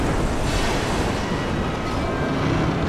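Rushing flood water in the Bioshock 2 video game, set in the Dionysus Park area: a loud, steady surf-like roar of pouring water with windy hiss, unbroken throughout and with no voices.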